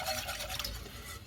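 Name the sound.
whisking gravy in a pan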